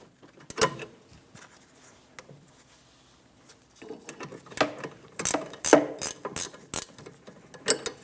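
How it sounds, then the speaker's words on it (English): Ratchet clicking while the bottom bracket bolt comes off the rear brake caliper of a 2003-2007 Infiniti G35: a short burst of clicks early, then a longer run of ratcheting strokes and metallic clunks later, close up with no talk. "Remove the bottom bracket bolt."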